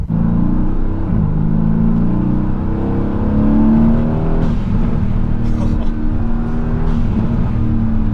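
A widebody Mercedes-AMG GTS with a blow-off valve revs loudly and close, its deep engine drone rising and falling, with sharp hissy bursts from the valve near the end and people talking over it.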